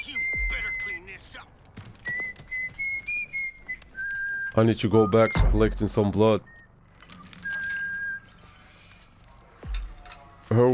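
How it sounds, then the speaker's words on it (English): The character Sissy in The Texas Chainsaw Massacre video game whistles a tune in short held notes with pauses, amid game footsteps and thuds, while a person talks over parts of it. "I like how she's whistling while the cook is venturing."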